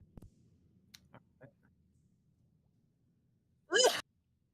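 One sharp, close sneeze from a person bursts out near the end, after a few faint clicks in an otherwise quiet room.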